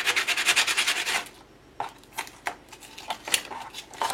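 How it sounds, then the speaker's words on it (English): Sandpaper scuffs a surface in rapid, rhythmic back-and-forth strokes at first, then slows to a handful of separate rubs and scrapes, close and moderately loud. "Bring in some sandpaper. Rough this up some more."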